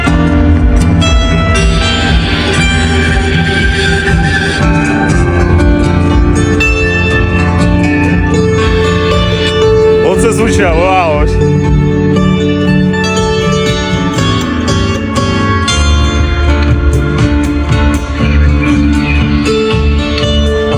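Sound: bandura playing

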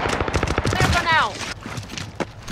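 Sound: gunfire in video game Call of Duty Modern Warfare

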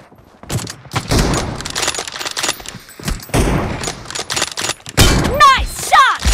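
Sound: gunshots in the video game BGMI

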